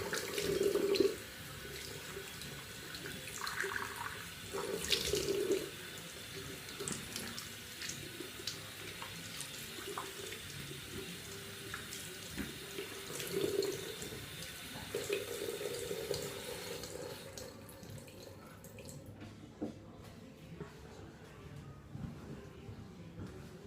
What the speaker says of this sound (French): je me rince vite fait à la face.